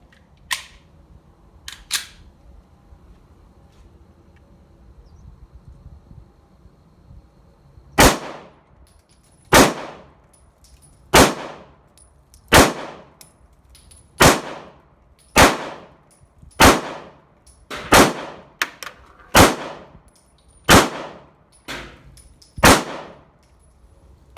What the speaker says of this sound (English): I brought 100 rounds, so I want to kind of break this pistol in here a little bit.